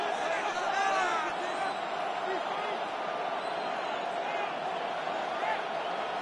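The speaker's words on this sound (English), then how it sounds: "This crowd into it now as we get to third down." A football stadium crowd cheers and roars continuously ahead of a third-down play, loud and sustained, with bursts of whistling and shouting in the mix.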